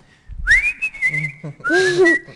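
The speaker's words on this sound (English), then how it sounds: "I can whistle." Someone whistles a short, wavering melody nearby, clear and loud, in two bursts with a brief pause between.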